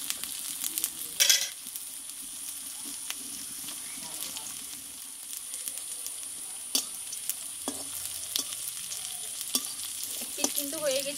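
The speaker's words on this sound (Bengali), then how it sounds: "এবারে এই তেলে আমি বাকিগুলো আমি ভেজে নেব।" Egg and yardlong bean kofta fry in a shallow layer of oil, giving a steady, soft sizzle with occasional sharper crackles and spatter pops, close by and without talk.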